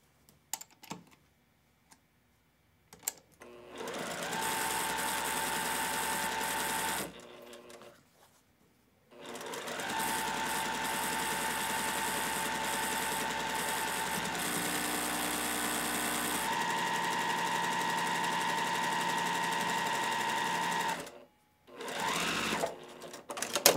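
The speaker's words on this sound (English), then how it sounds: "And then let's sew the last seam." A sewing machine stitches the final seam of a Flying Kite quilt block, running in two long steady bursts separated by a pause, with a few short clicks and starts at the beginning and end.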